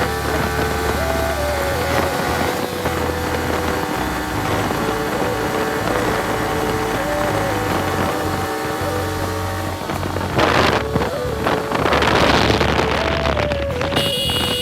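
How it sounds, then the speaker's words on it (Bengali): Strong wind roars past a motorbike riding at speed, a constant loud buffeting rush over the engine drone that swells louder near the end. "বাতাস প্রচুর বাতাস চারিদিকে"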